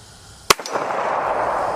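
A single sharp .45 handgun shot cracks out at outdoor target practice, close and loud, followed by a brief echo and steady background wind noise.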